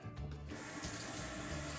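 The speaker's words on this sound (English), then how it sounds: "half a cup of water." Half a cup of water pours into a cooking pot for short ribs and beans, a steady, faint splashing rush from a tap-like stream with no speech.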